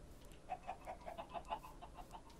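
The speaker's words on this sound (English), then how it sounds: "Hey, chicken?" A chicken clucks in the video game Minecraft, giving a quick run of about eight soft, evenly spaced clucks at low volume.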